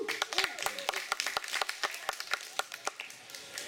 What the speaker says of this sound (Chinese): 我们掌声欢迎一下